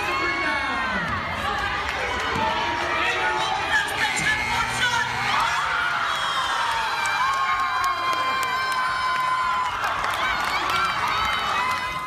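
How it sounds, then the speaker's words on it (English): A basketball crowd roars and cheers without a break after a half-court buzzer beater at the end of the third quarter, loud and dense with high shouts and whoops. "Crowd's reaction shows just how popular Andrew is."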